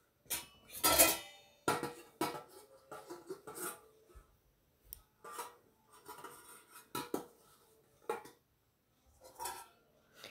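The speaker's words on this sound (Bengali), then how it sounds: "এই দেখো আমি মাখাচ্ছি, পুরো ভালো করে মশলাটা পুরো মাখিয়ে নিতে হবে।" Potato chaat masala spices are mixed in a bowl by hand, heard as intermittent close clinks, taps and scrapes of a spoon against dishware in short bursts separated by quiet gaps, with no talking.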